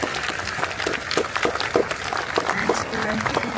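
A crowd at a public event honoring veterans claps and cheers, scattered applause and occasional shouts rising and falling at moderate distance, with faint voices mixed in.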